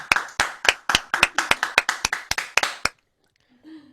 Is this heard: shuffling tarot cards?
no